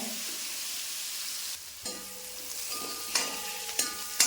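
Onion and garlic frying in oil in a pan for sambar, a soft steady sizzle with a few scraping stirs and clinks of a utensil near the end; nobody speaks.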